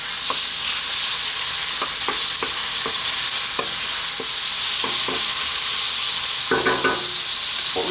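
Chicken curry made with spinach sizzles steadily in a hot pan while a utensil scrapes and stirs through it in repeated strokes, with a brief clatter of clinks near the end and no talking.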